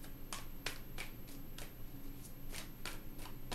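Tarot cards shuffled by hand in repeated crisp riffling bursts, about nine quick flicks spaced evenly over a low steady room hum, close and moderately loud with no talking.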